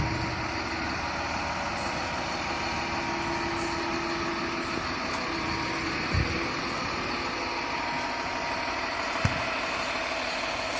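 A brand-new crawler-tracked pile-driving machine idles steadily beside the Mekong at the fifth Thai-Lao bridge site, a continuous mid-pitched diesel drone with a couple of brief knocks, no talk over it.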